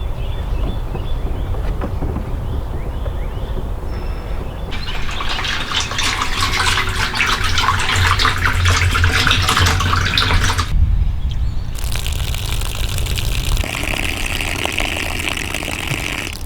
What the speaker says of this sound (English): we got our barrel totally filled with water